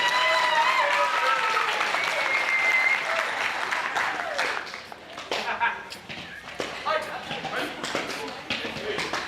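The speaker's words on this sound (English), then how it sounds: "start stomping your feet, start clapping your hands" An audience stomps its feet and claps its hands: loud, continuous clapping and thumping that thins into scattered, uneven stomps and claps, with voices talking and calling out over it.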